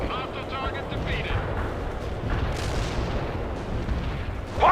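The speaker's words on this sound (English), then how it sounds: "Ivan is calling in artillery on your position" Artillery barrage in the video game World in Conflict, a rumbling mass of distant booms and eruptions rolling continuously under battlefield noise, with a sharper burst at the end.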